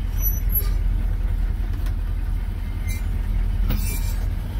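An M1028A2 CUCV truck running in front-wheel drive only rolls down the road, its engine and drivetrain giving a loud, steady rumble heard from inside the cab, with faint squeaks and rattles.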